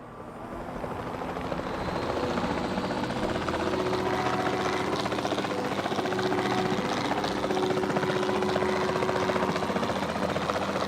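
A helicopter in the video game Jurassic World Evolution 2 holds a steady, loud rotor whir and engine hum that runs the whole time without pause, heard up close with no voices.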